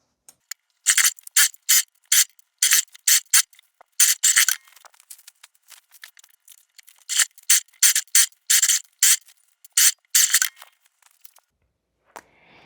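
A sewing machine stitches around the sleeve cuff of a woven dolman dress in a series of short, rapid bursts separated by brief pauses, close and fairly loud.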